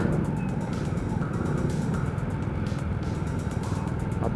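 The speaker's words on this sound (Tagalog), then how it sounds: "Traffic dito sa Commonwealth." Road traffic on Commonwealth, a continuous low rumble of car and motorcycle engines close by, steady and dense with no distinct pauses, no voices.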